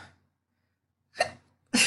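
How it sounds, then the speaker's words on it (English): Hiccups from someone talking through a live trading session, two short sharp bursts in quick succession after a moment of quiet, close and fairly loud. "I'm the hiccup queen"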